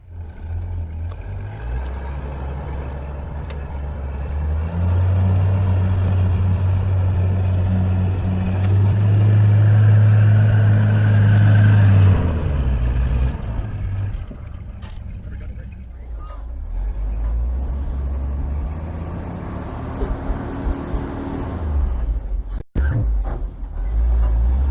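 A 1943 GM Fox Mk I armoured car's engine rumbles loudly and steadily close by as it is driven off a trailer, rising to a heavier roar midway before easing to a lower idle, with brief bumps near the end.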